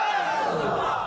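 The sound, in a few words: crowd shouting a religious chant in response to the preacher's call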